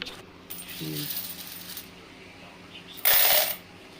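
Loose coins drop into a coin machine with a brief metallic clatter and a short, loud rush of jingling near the end, under soft background noise.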